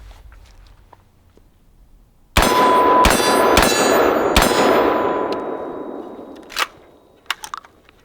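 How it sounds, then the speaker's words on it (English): Rapid AR-15 rifle fire at a range with a trigger under test: four loud, sharp shots in quick succession, each followed by a long ringing decay, then scattered metallic clinks of brass and gear. "we had a light primer strike on that last round, so only got 9 rounds off"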